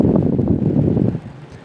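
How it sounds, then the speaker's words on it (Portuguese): An Arge electric fan fitted with a replacement coil runs steadily nearby, giving a loud, even rush of moving air that drops off and softens near the end. "Ele é lento mesmo, mas ele solta bastante vento."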